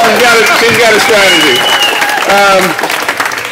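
Crowd applause at a political get-out-the-vote rally, loud and dense clapping with cheering, tapering near the end while a voice speaks over it.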